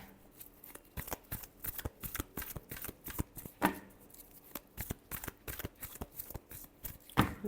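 Tarot cards being shuffled by hand during a love reading, a steady run of crisp riffling snaps and flutters close up, with a couple of louder bursts standing out.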